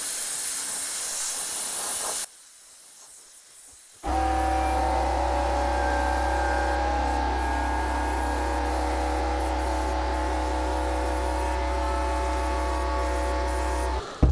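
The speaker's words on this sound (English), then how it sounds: "I'm also going to use the airline to just blow the paint a bit" A compressor airline blows paint across the surface of an oak bowl, giving a steady, close hiss of rushing air that starts after a brief pause and keeps going over a low, constant compressor hum.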